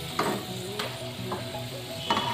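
Raw potato pakoras fry in hot oil with a soft, steady sizzle, while a few light scrapes and clinks of a utensil stirring in the pan come through at close range.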